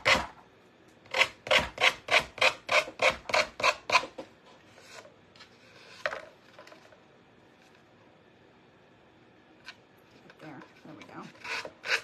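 Sandpaper rubbed by hand over wooden trim on a knife block, a quick run of about ten rhythmic rasping strokes and then scattered slower scrapes, with a brief spoken remark between them.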